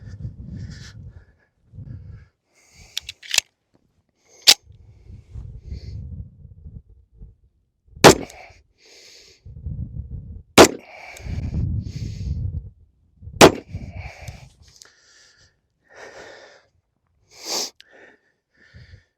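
A Colt 1911 SE-A1 Limited Edition pistol fired at 7 yards: about six sharp, loud cracks spaced several seconds apart, set against low rumbling handling and wind noise between shots.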